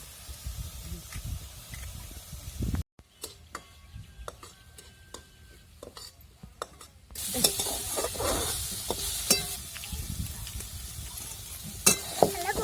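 Onions and chillies sautéing in oil, a steady close sizzle that cuts out into a quieter stretch of sparse clicks and taps, then returns louder with scraping stirs.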